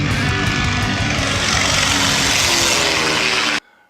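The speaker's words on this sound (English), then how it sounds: "it was pretty cool getting to see the float plane land and take off again" A float plane flies low overhead near Woman Lake Lodge in Canada. Its loud, steady propeller engine drone fills the air, then cuts off abruptly.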